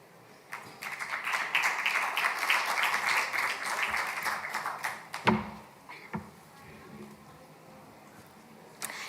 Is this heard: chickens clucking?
no